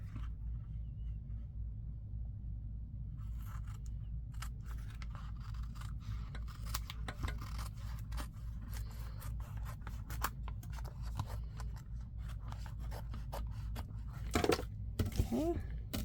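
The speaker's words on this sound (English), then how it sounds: "let's trim around here." Scissors cutting junk mail paper, heard up close as a run of quick crisp snips and slicing rubs over a low background hum, growing busier and a bit louder toward the end.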